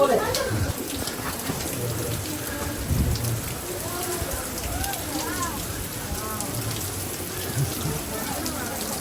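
Spray from the Staubbach waterfall in Lauterbrunnen, Switzerland, makes a steady rain-like hiss and patter close by, with voices speaking briefly over it.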